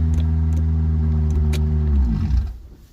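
A 1989 Nissan Sentra engine idles with a steady, loud droning hum from an overly noisy belt, then sags and fades as the car is put in drive and the engine dies.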